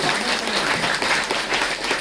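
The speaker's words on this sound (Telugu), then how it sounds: "ఒకసారి చప్పట్లు కొట్టండి" An audience claps in sustained applause at a gathering, a dense, loud wash of many hands that pulses slightly in intensity.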